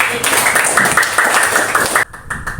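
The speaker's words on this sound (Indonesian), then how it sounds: "Aplaus." Audience applause at a student teachers' practicum session held at UIN Imam Bonjol Padang, loud and dense clapping lasting about two seconds before it drops away into quieter room noise.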